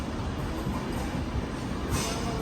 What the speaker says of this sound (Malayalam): ട്രെയിൻ എത്തിയിട്ടുണ്ട്.